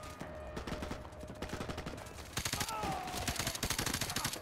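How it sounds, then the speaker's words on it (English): Rapid automatic gunfire rattles through a firefight in Call of Duty 4: Modern Warfare, with a steady stream of crisp shots that grows louder and denser partway through under faint battle noise. "Where they shooting from? Oh, they shooting from up there."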